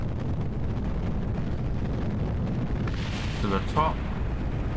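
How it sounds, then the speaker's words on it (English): Deep continuous rumbling roar of explosions beneath a launching rocket in the Kerbal Space Program video game, loud and steady, with a voice talking briefly near the end. "Don't worry too much about those explosions below us."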